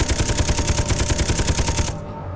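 A Gatling gun on a weapon platform in the video game Space Engineers fires a fast, evenly spaced rattling stream of shots for about two seconds, then stops abruptly.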